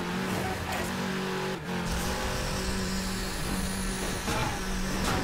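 Car engine in the Midnight Club 3 racing game holds a steady, loud drone through a drift, with a brief dip and a rising rev near the end.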